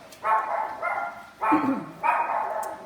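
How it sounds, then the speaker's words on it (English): A dog barks three or four times in a steady sequence, fairly close and loud, with short gaps between each bark. "Sorry for my dog, she's barking at something."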